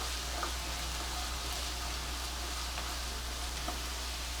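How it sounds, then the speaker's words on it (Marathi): Carrot, spring onion and onion sautéing in a pan for Manchow soup, a constant soft sizzle with a low steady hum beneath and faint stirring clicks. "ते घातलंय थोडस परतून घ्यायचंय"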